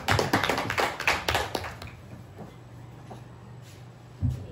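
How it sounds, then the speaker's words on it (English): Audience applause at an afternoon school turnover ceremony, a burst of hand clapping that swells briefly and then fades into a quiet room with a low hum. "A round of applause,"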